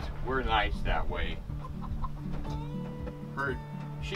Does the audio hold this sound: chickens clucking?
yes